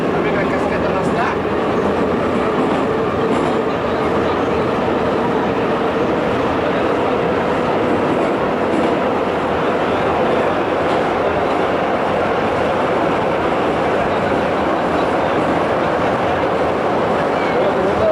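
A metro train rolls through the Russian underground in 1994, its loud, continuous rumble and rattle filling the car from start to finish, with faint voices buried beneath.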